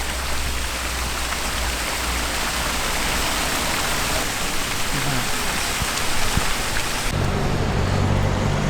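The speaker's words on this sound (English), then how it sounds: "it's started to rain again" Rain falls on the deck of a P&O cruise ship, a continuous broadband patter and hiss with no talk, which shifts slightly in tone near the end.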